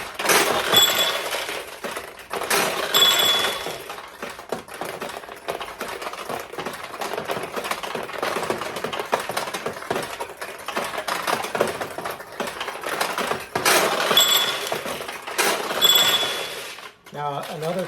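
Steel balls launching and clattering rapidly through a fully restored 1975 Nishijin Model B vintage pachinko machine, a dense continuous rattle of clicks and pings with brief bell-like tones, a voice speaking faintly in places.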